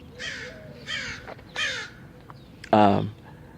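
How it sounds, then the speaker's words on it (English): Crows caw outdoors in a series of four harsh calls, the first three moderately near and evenly spaced, the last louder and closer. "And as you can see, crows are coming around."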